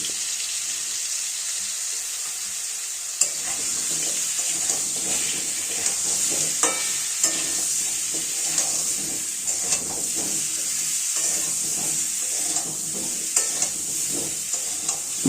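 Potatoes fry in a pan for a Bengali potato curry with green peas, a steady bright sizzle running throughout while a spoon stirs and scrapes in repeated clicks and knocks, close and with no talking.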